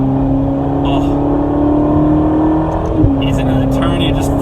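A Ferrari California T engine drones steadily from inside the cabin as the car accelerates, a smooth sustained tone that dips briefly in pitch midway as if shifting gear, loud and close throughout.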